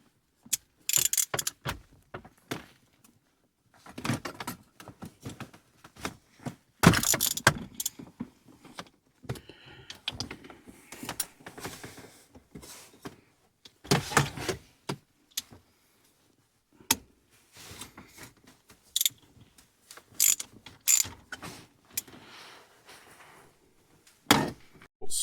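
Ratchet wrench removing four metric 8 mm bolts from a 1994-98 Mustang GT shifter, close sharp bursts of clicking separated by pauses and clinks of metal, with no talking.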